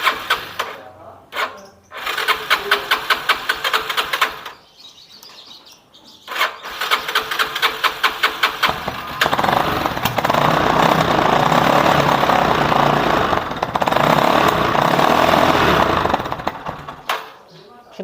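A used Yamaha Scorpio motorcycle engine revs in quick rhythmic bursts, cuts out briefly, then restarts and runs loud and steady at close range, with a person talking over it.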